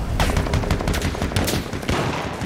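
Repeated gunfire from the Battlefield 1 battlefield, including the Martini-Henry sniper rifle, comes as a dense run of loud sharp shots over a constant rumble of combat, with no talking.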